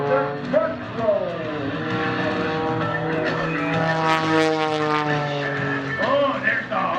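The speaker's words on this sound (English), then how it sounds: "Notice the airspeed is bleeding off as the airplane is rotating around the fuselage." Propeller airplane flying a front roll at an airshow over Greenwood Lake, a steady droning engine note with a rising and falling pitch, fairly loud and continuous, mixed with a voice speaking over it.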